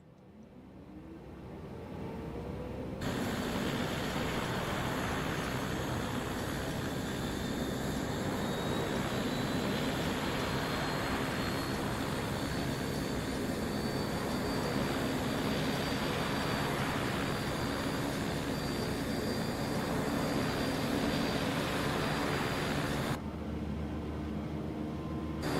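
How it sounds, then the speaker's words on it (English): A Beech Starship's engine 1 spooling up in MSFS 2024: a loud, steady broadband roar with a slowly rising whine holds for about twenty seconds, then cuts back to a quieter hum, with no talking. "Let's start engine 1."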